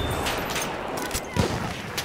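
Machine gun fire in Battlefield 1: scattered, rapid bursts of shots, moderately close, over a continuous rumble of battle noise.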